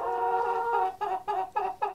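A turkey gobbles nearby, a loud drawn-out warbling call followed by three or four short rapid bursts, alone without talk.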